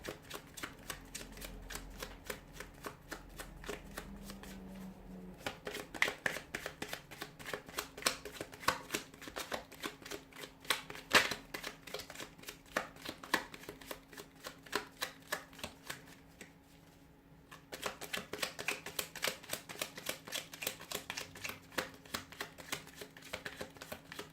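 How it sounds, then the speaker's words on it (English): Tarot cards being shuffled close up, a long series of rapid riffling clicks and soft slaps, with a brief pause partway through. "give the cards a shuffle here"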